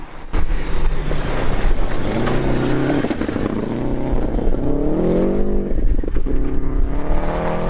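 A rally car engine after a winter rebuild revs hard at the Snowman Rally 2020, rising and falling through gear changes with a rasping, close, loud note and wind buffeting the microphone.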